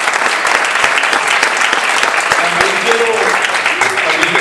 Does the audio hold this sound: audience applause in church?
yes